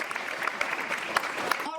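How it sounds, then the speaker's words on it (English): An audience at a women-in-business chamber of commerce event claps steadily in a dense, even patter throughout, with a few sharper claps standing out and a fade at the end. "Can you clap hands for yourself as you keep?"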